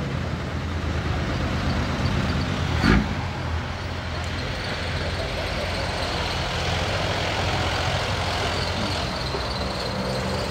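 Dump truck in Udon Thani with old, worn tires, its engine rumbling steadily and close throughout, with one brief sharp knock partway through and no talking.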